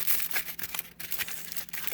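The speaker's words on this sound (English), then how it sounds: "I folded the aluminum foil a few times till I got a nice" Aluminum foil folded by hand into a thick shield, giving a close, quiet run of crinkling and crackling rustles in irregular bursts, with no voices.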